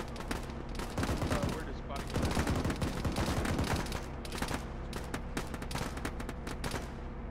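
Dense, continuous gunfire from enemy contacts in an Arma video game (ShackTac), with overlapping rifle and machine-gun bursts rattling throughout, loud and busy, with brief surges of heavier firing.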